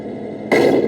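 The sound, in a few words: cannon sound effect from Tamiya 1/16 Centurion RC tank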